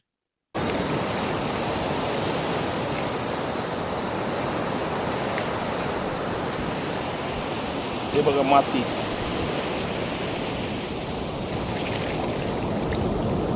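Sea waves wash steadily onto the shore at Murud-Harne beach in the Konkan on a morning, a constant broad rushing surf, with a brief spoken remark partway through.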